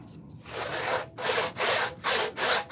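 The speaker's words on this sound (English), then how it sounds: "Okay, back to sawing." A wooden spoon being hand-sawn: rasping saw strokes through wood, close and steady, with a short pause and then four distinct back-and-forth pulls in an even rhythm, no voices.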